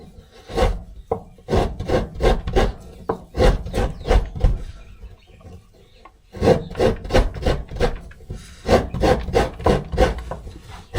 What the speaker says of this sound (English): I'm now gonna scrape the coconut.